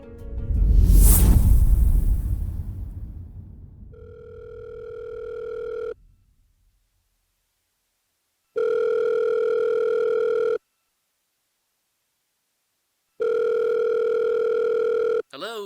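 A phone line rings out before a voicemail greeting picks up: three long, steady tone bursts separated by silent gaps, preceded by a loud rushing whoosh at the start.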